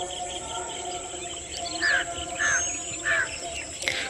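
Two birds call as they fly toward their nest at a hidden spot in Batticaloa, giving three or four short bright chirps spaced over several seconds above a steady insect and ambient hiss.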